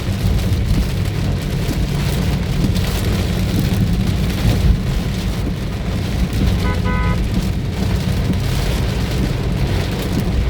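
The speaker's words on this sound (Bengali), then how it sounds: "এই যে সাংঘাতিক বৃষ্টি হচ্ছে গাড়িতে" Heavy rain drums hard and continuously on a car on the Comilla–Dhaka road, Bangladesh, a dense close roar with a brief faint tonal chirp partway through.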